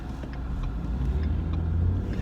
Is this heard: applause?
no